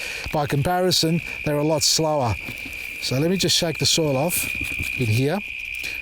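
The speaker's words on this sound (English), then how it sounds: "you can hear the crickets and the cicadas in the background" Crickets and cicadas chirp outdoors at nightfall in a garden where a plant is being potted up, a steady high-pitched drone running throughout beneath a man's close, continuous talking.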